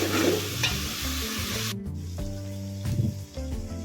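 A village-style mixed vegetable pulao mixture is stirred in an oiled pan, with a steady sizzle and scraping throughout and a brief louder patch near the end, no voices.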